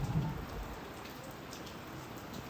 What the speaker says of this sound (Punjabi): ਬੁਲਬੁਲੇ ਵਾਲਾ ਮੀਂਹ ਆ ਦੇਖੋ ਬੁਲਬੁਲੇ ਵਾਲਾ ਮੀਂਹ ਪੈਂਦਾ